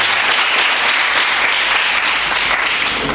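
A crowd at a school quiz competition applauds the Talibou Dabo de Grand Yoff high school team, a thick, even wash of clapping that stays loud and unbroken throughout.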